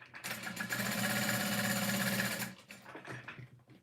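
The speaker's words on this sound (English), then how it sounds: "I'm going to top stitch along the sides." Sewing machine running steadily for about two seconds while top stitching along the sides of a 1.5-inch-wide vinyl strap, a loud close-up whirring stitch rhythm that then slows and stops into quieter handling sounds.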